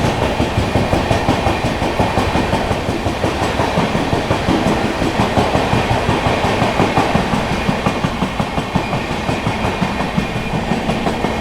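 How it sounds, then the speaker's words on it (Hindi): Onboard the 12556 Gorakhdham Superfast Express near Firozabad, overtaking the Purushottam Express, a loud, steady clickety-clack of wheels over rail joints rolls on in a fast, even rhythm for the whole stretch. "पुरी पुरुषोत्तम एक्सप्रेस को ओवरटेक कर रहे हैं हम लोग फिरोज़ाबाद पे"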